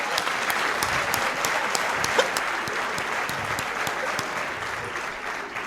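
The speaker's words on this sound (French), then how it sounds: "je vous invite à applaudir très fort" Wedding guests clap loudly and steadily, with crisp individual claps standing out over a continuous wash of applause from a mid-sized crowd indoors.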